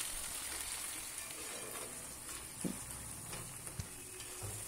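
Chopped onion and tomato hitting hot oil left from frying pomfret, giving a soft, even crackle and sizzle with a few faint knocks of a spoon, all fairly quiet and close.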